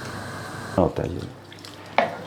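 A spoon stirs a bhindi gosht mixture of okra and mutton chops in a pot, giving two short scraping strokes and a later clink, all under steady background hiss, with no one speaking.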